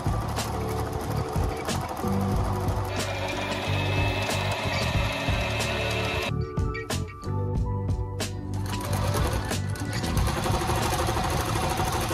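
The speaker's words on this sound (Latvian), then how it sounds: "Tā kā dodos pie šujmašīnas." Sewing machine stitching embroidery onto a dress, a steady rapid mechanical whirr and clatter with rhythmic needle ticks, close and continuous, briefly pausing before resuming.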